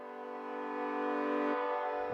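A heavily processed saw wave synth tone from a Roland JX holds steady and dense for about a second and a half, then thins out abruptly as its low end drops away, with no talking.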